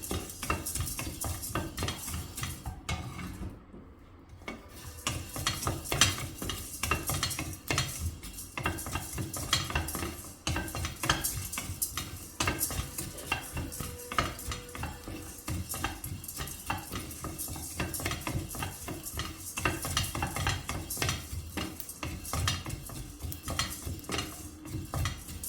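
Sesame seeds dry roasting in a kadai over a high gas flame, stirred continuously with a utensil that scrapes and clinks against the metal in a steady, busy rhythm throughout, with no talking.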